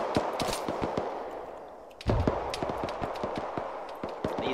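Gunfire exchange in Arma 3: a steady stream of sharp shots, some close and loud and others more distant, cracking in irregular bursts with no voices.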